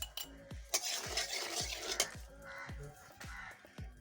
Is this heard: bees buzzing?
no